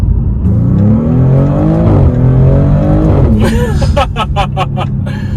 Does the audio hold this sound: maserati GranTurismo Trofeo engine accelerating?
yes